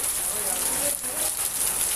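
Heavy rain pours down in a steady, even hiss with no breaks, close and fairly loud, and a voice may murmur faintly beneath it.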